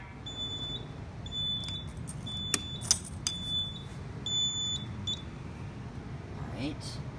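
Mechanical fire alarm horns in a fire alarm system test pulse in short repeated bursts, steady tonal blasts with gaps between, alongside a few sharp clicks and a faint background hum.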